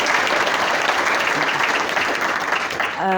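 Audience applause fills the room at a community evening event, a steady dense clapping from a crowd that holds for about three seconds and then tapers off abruptly at the end.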